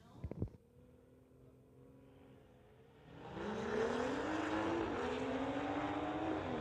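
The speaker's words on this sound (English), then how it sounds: "BMW on the tower side going against Warren Eder in his 2014 BMW" A sharp burst opens the clip, then a low idling drone, then a 2014 BMW and a rival launch in a street legal drag race, engines surging loud through a rising sweep and holding a steady roar to the end.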